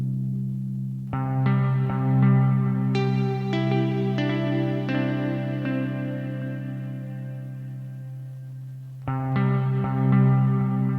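Sustained synthesizer chords swell and shimmer with a wide chorus wobble, echoing delay and a long reverb tail, then a fresh chord enters near the end.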